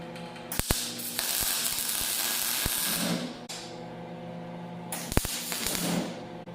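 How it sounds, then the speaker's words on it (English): A die grinder runs with a steady, high mechanical whir as its buffing wheel works over rusty sheet steel. The tool is close, and the pitch drops briefly around each repositioning before it spins back up. "we'll take the buffing wheel on my die grinder and buff that rest of it out"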